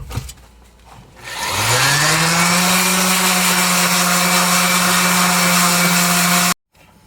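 A power sander with a fresh 60 grit pad grinds rust from the passenger floor pan inside a 1995 Pontiac Firebird, spinning up after a second and holding a loud, steady whine close by until it cuts off abruptly near the end.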